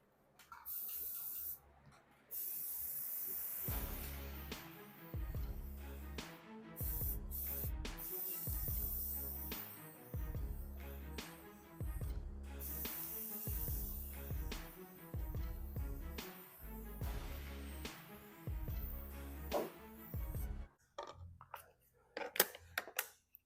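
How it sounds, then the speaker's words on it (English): Repeated bursts of aerosol spray paint hissing, black matte enamel, short sprays in an irregular rhythm with brief pauses between them, close by. "I'm going to be spraying this, the whole thing, inside and out with some enamel black"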